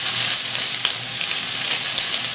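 Sliced scallions sear in a hot pan with a steady, close sizzle and crackle that holds even and loud throughout, broken by a few faint pops.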